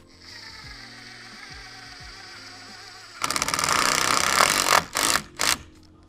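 A 100mm square drive screw is driven through a pre-drilled hole into timber at the base of a garden strut, a loud close power-driver whirr with ratcheting grind that stops and restarts in two short bursts after a quieter lead-in.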